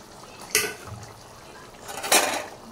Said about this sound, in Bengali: বড়াগুলো আমি সব এক এক করে দিয়ে দিলাম।